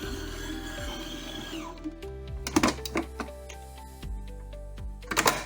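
Bread dough kneading machine running at low speed with baguette dough, a steady mechanical hum and whir with intermittent knocks and thumps as the dough turns, close and alone.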